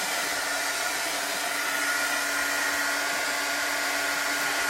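A hair dryer blows continuously at close range, a steady loud rushing whoosh, drying a chalk transfer after a water bath.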